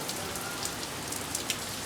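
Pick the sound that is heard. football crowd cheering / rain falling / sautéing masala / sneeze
rain falling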